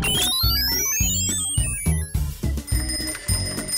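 A bicycle bell rings in a quick series of bright metallic dings set against cheerful children's rhyme music, clear and close with no talk.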